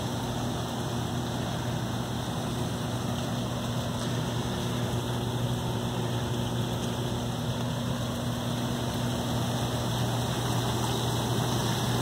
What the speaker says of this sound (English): the jets are off. I'm going to turn it on to full speed.